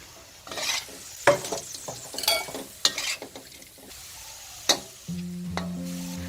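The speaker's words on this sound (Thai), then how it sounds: "เราก็มาใส่ส่วนของเห็ดลงไปเลยค่ะ" Mushrooms are stir-fried in a pan with soy-sauce shrimp, giving sharp intermittent spatula scrapes and clacks over a low sizzle, followed by a steady hum toward the end.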